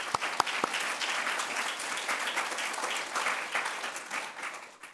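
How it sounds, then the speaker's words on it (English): A crowd at a spring graduate commencement and hooding ceremony applauds the instructors and faculty, a sustained spread of clapping from many hands in a large space, opening with a few sharp claps and tapering slightly at the end. "Give them a round of applause."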